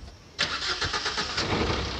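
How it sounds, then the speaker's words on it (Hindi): A car engine turns over and runs close by at the roadside during a flat tyre change, a sudden start followed by a steady, loud, rough idle. "हमारे गाड़ियों का आवाज़ बहुत आ रहा है"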